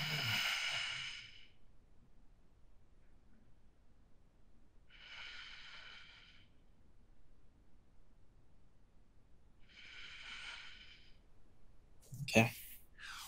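Three slow, deep breaths during a yoga child's pose, each a soft airy exhale spaced a few seconds apart in a quiet room, followed by a brief louder rustle near the end.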